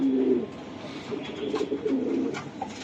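Racing pigeons at a breeders' loft coo nearby in a few low, throaty rolling calls, clear and close against a quiet background.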